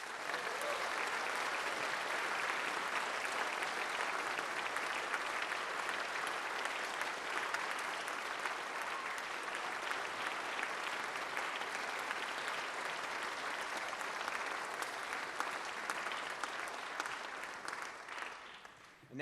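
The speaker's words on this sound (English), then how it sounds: "Please, big round of applause for this year's Semper Fi Award winner" A crowd at the Penfield High School band spring concert gives a long, sustained round of applause for an award winner, even and dense clapping that fades near the end.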